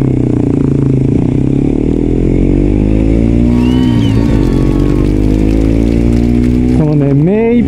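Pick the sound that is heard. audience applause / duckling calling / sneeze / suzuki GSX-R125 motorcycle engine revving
suzuki GSX-R125 motorcycle engine revving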